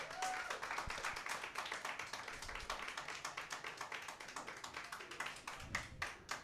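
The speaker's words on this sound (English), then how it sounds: "give them a round of applause" A student music session audience applauds a group coming up to play, a dense patter of many hands clapping at a steady, quick rhythm, moderately distant and fairly quiet.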